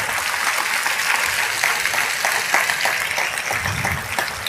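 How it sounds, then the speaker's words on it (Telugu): A congregation claps together at a church gathering during a sermon, a thick continuous patter of many hands, moderately loud and steady from start to finish with no one speaking. "చప్పట్లు కొట్టి దేవుని మహిమపరచు."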